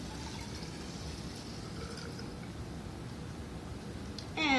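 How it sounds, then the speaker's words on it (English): Water from a beaker pours into a volumeter cylinder used for limb volume measurement, a faint, steady liquid trickle that runs for several seconds with no voices. "take the beaker of water,"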